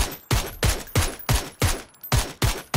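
Rapid bursts of gunfire in a PUBG esports scrim, eight loud, punchy shots spaced evenly about a third of a second apart, each with a sharp crack and booming low tail, with no talk over them.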